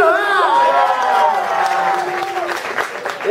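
Guests at a graduation party clap for an award winner, with brisk, steady applause mixed with cheering and a few whoops. It stays loud and close for its short length.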